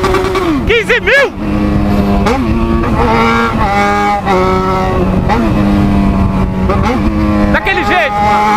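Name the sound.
Yamaha XJ6 motorcycle riding at night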